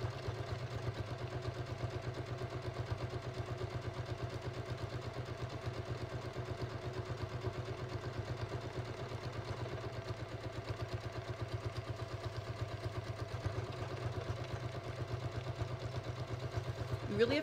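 A sewing machine stitching fabric, running at a steady fast rhythmic hum with a regular mechanical pulse, close and continuous for the whole stretch, ending with a small clatter.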